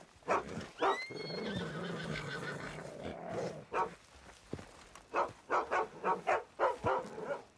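A horse in the video game Red Dead Redemption II gives a loud, close whinny, followed by a run of rhythmic snorts and hoof-like thuds, with faint ambient outdoor game sound behind.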